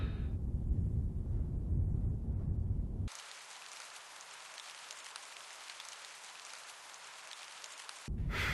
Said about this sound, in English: Why does it always rain in England?